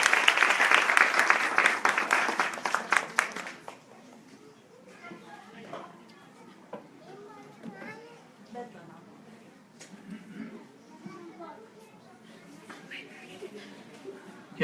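Loud applause from an audience at a Yalda celebration for Dr. Sam, dense clapping for about three and a half seconds that then cuts off, leaving quieter room murmur and chatter.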